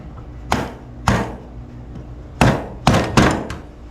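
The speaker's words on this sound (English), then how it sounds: "Let me get my hammer. Just a little rubber mallet." A small rubber mallet taps a Holley 4150 carburetor from a 1979 Corvette, giving five dull, close knocks: two spaced apart, a pause, then three quicker ones over a faint background hum.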